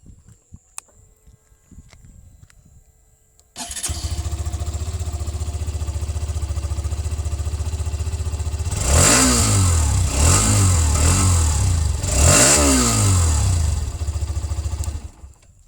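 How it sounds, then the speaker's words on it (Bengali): A Hero Xtreme 125R Dual ABS motorcycle engine catches after some faint handling noise, settles into a steady close idle, then gets revved three times in quick rising-and-falling bursts before idling on and cutting off. "চলো আমি তোমাদের বাইকের একবার সাউন্ডটাও শুনিয়ে দিই"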